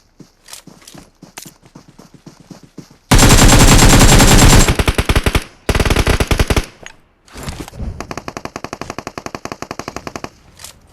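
Loud bursts of automatic gunfire from PUBG Mobile, a dense sustained volley followed by a shorter burst and then rapid repeated shots, with scattered single shots earlier and no talk.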